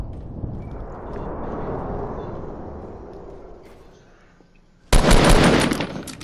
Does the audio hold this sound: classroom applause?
no